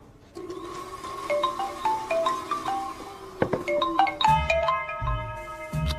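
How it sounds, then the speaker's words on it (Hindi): A phone ringtone sounds for an incoming call, a bright melodic electronic tune of stepped tones playing alone and growing fuller toward the end. "अरे यार ये अभी क्यों फोन लगा रहा है?"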